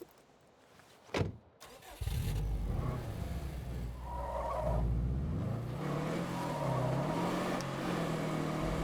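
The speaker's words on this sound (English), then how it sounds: "It's been a while since I've been able to hear my engine like that." In the zombie survival game State of Decay 2, a car engine starts with a sharp burst and then runs in a steady loud drone, rising and falling slightly as the vehicle drives off, with no voices.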